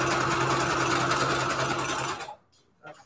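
A sewing machine running a zigzag stitch on junk journal pages, a loud continuous whirring buzz with steady rapid stitching that stops abruptly near the end, followed by a couple of faint clicks.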